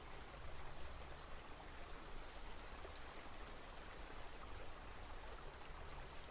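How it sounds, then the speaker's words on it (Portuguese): Gentle rain falls steadily, a dense soft patter of drops spread evenly across the whole stretch, with a low rumbling wash beneath and no voices. "conectado com essa chuva"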